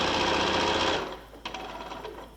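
Sewing machine stitching along a row of a layer cake beginner quilt, with a loud continuous whirring run for about a second that stops, followed by quieter clicks and handling.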